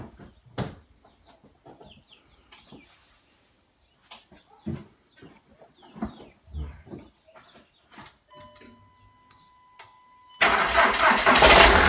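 A Volkswagen Jetta TDI diesel engine, with its EGR system deleted, cranks and fires up near the end, loud and close, after several seconds of quieter clicks and handling noises.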